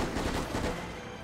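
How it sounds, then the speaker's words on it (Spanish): Gunfire in the video game Resident Evil Operation Raccoon City rolls out as a loud, dense burst of rapid shots blurring into a continuous roar that tails off. "El efecto de tiros me parece más realista."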